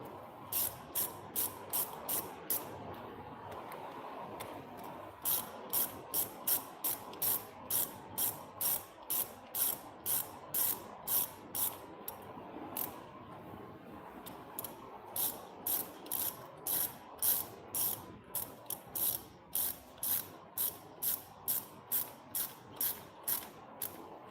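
A ratchet wrench tightens a retain nut with long runs of rapid, evenly spaced clicks, broken by short pauses between bursts, loud and close with no talk.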